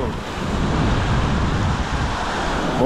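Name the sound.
ocean waves at Praia do Forno beach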